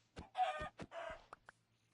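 A chicken in a Minecraft-style video game clucks in a short burst of several quick, close clucks followed by a couple of faint clicks, with no speech over it.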